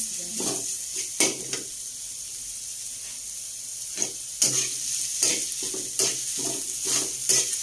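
Tuna innards sautéing in a pan, a constant hiss of frying broken by repeated sharp scrapes and clatters of a spatula stirring against the pan, close and fairly loud.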